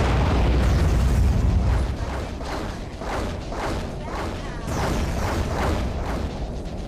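Torpedo explosions in the underwater video game Aquanox: a heavy rumbling blast opens, followed by a rapid series of sharp bursts and crackling impacts, loud and close, with voice lines briefly mixed in.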